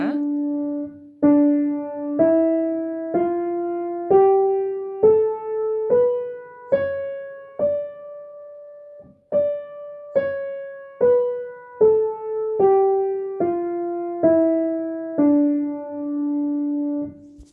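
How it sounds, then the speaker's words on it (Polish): A single instrument plays a D Dorian scale note by note, starting on D, ascending then descending, each tone struck clearly and left to ring briefly. "Zagram Wam teraz gamę demol dorycką."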